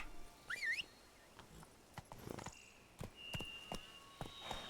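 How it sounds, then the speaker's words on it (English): Horse hooves clop at a steady walking pace in The Witcher 3: Blood and Wine, faint and a bit distant, alongside a brief whistle and scattered game sound effects. "I'll just get the horse and just ride"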